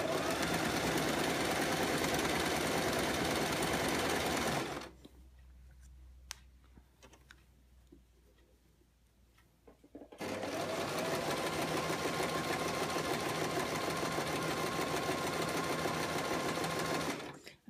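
A sewing machine stitches an elastic casing on a ruffle skirt, running in two long steady bursts of rapid whirring with a quieter pause between them.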